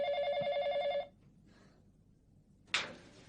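A telephone rings indoors in a family drama, one trilling ring of about a second, pulsing rapidly, then quiet broken by a short burst of noise.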